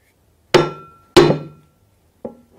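A cobbler's hammer, about twenty years old, strikes a shoe three times in an otherwise quiet workshop, giving two sharp, loud blows followed by a softer third tap.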